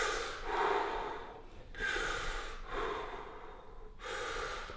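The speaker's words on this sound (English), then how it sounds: "So as I'm breathing" Deep breathing during a fascia stretch in a deep squat, with slow, close inhale-exhale cycles about a second or two long, each breath audible and airy with short pauses between, and no talking.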